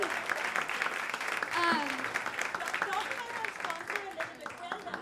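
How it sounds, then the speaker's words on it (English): Audience at a live podcast event for a 100th episode celebration applauds and cheers, clapping mixed with whoops and voices, fairly close and lively throughout. "Just a round of applause for everybody who made this event happen."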